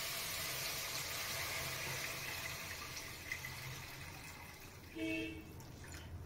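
Water poured into a pot of besan and potato curry during home cooking, a soft steady pouring and trickling with a faint splash near the end, fairly quiet and close.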